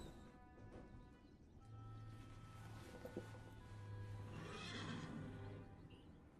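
A horse in the video game Sherlock Holmes: The Awakened whinnies faintly at a distance, its drawn-out neigh rising and falling over quiet ambient noise with a few soft hoof clops.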